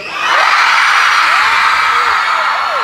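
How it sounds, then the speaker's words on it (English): A large concert crowd at a show screams and whoops loudly, a dense, sustained wall of high-pitched cheering that rises quickly and holds for nearly three seconds. "I need y'all to scream."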